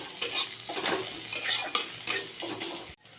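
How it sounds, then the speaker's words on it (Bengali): Grated ginger and garlic frying with lightly browned onion in a pan, a steady sizzle broken by repeated scraping strokes of a spatula and clinks against the metal, close and moderately loud, with no talking. "এবারে দিয়ে দিচ্ছি আদা রসুন গ্রেট করে আদা রসুনটাকেও ভেজে নেবো"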